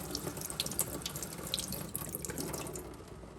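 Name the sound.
rinsing antique jewelry under running tap water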